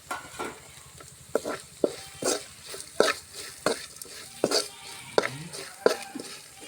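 Cumin and fennel seeds frying in oil in a pan for egg gravy, stirred by a spoon that gives a steady run of sharp scraping clicks and light taps over a soft, low sizzle.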